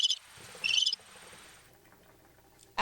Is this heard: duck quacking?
no